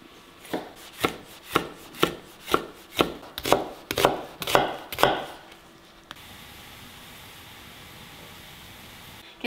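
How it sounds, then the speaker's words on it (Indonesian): Onions being chopped with a knife on a cutting board for seblak, about ten crisp, evenly spaced close knocks, then the cutting stops and only faint steady background hiss remains. "sekarang kita potong bawangnya juga dulu ya teman-teman"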